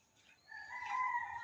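A rooster crows somewhere in a village with gardens and houses, a single faint, drawn-out call rising out of quiet background air.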